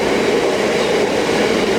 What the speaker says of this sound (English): I'm about to get interrupted by yet another freight train.